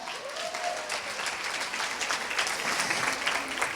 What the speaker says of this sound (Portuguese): Aplausos para Madonna